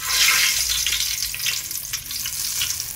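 A bay leaf drops into hot oil in a pan for vegetable pulao, setting off a loud, steady crackling sizzle that runs throughout with no talking.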